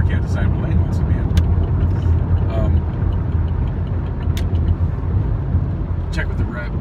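A car driving in freeway traffic, with constant road and engine rumble from inside the cabin, loud and steady, with occasional faint ticks and a voice talking over it.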